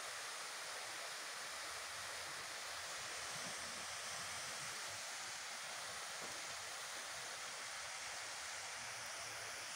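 Cascata de Sander waterfall pours in a steady, even broadband rush, heard from a distance with no voices or other sounds over it.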